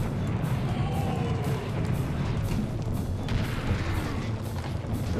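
Constant booming and rumbling from rockets and explosions in the shooter game Serious Sam: The First Encounter fill the whole stretch. The roar is dense and unbroken, with repeated blasts merging into a continuous loud wash.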